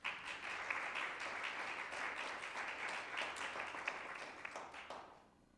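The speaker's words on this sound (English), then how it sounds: "I know he's not here, but a small applause." Small applause at a school board meeting, a room of people clapping steadily at moderate volume for about five seconds before it quickly fades out.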